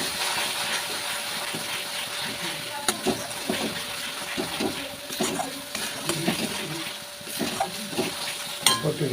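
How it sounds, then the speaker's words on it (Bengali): Spices sizzle in a hot pan for Bengali aloo dum, a steady close frying hiss broken by irregular scrapes and clinks of stirring, with someone talking over it. "মশলাটা আমার ভাজা হয়ে এসেছে, এর মধ্যে বাকি মশলাটা আমি দেবো"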